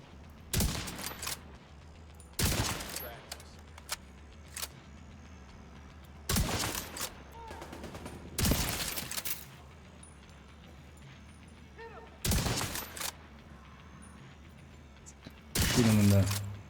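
Minigun fire in a video game, loud roaring bursts that come in several separate volleys spread over the stretch, each a few seconds long, with quieter game ambience and some talk between them.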